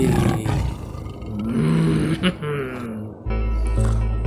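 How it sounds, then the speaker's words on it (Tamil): A leopard roaring, part of a run of wild animal sounds, with a loud low rasping roar that swells and breaks off, mixed with a voice speaking over it. "சிறுத்தை,"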